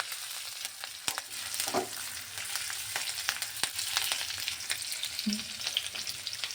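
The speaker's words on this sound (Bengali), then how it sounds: "আদাটা লঙ্কাটাও ভালোভাবে ভেজে নিচ্ছি" Chopped ginger and green chilli sizzle in hot oil in a pan, a soft steady frying crackle with occasional stirring clicks and scrapes, close and fairly quiet, with no talking.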